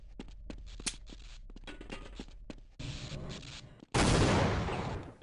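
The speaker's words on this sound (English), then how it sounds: "Damn, that power of that explosion." An explosive crate blows up in the shooter game They Hunger, following a run of sharp gunfire-like cracks; the blast arrives as a loud, sustained roar filling the final second and a half.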